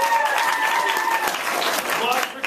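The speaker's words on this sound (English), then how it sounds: "All right, applause for Steven's idea." An audience at a live improv comedy show breaks into steady, fairly loud applause that fills the whole stretch, with a few voices mixed in among the clapping.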